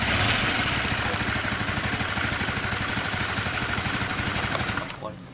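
A 2008 Honda Vario scooter with an unstable idle revs loudly up close, its engine throbbing in a rapid, rattling pulse that holds steady before dropping away at the end.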